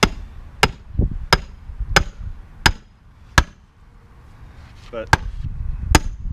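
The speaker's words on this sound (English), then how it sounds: "I'm gonna hammer this wedge in" Steel hammer strikes drive a wedge into a safe found in a storage unit: eight sharp, loud metallic blows in an uneven rhythm, with a brief pause midway and someone speaking faintly between hits.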